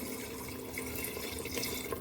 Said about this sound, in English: Now we can add a bit of water.